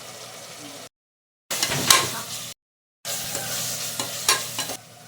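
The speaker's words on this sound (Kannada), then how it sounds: "ಎಲ್ಲ ಒಂದ್ಸರಿ ಮಿಕ್ಸ್ ಮಾಡ್ಕೊತಾ ಇದ್ದೀನಿ" Peas fried in oil with salt, chili powder and coriander powder are stirred in a pan, giving bursts of sizzling and scraping separated by brief silent gaps, close and moderately loud.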